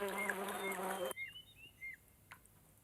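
A housefly buzzes close by, with a dense burst for about a second, then fainter intermittent whines and chirps over a quiet background.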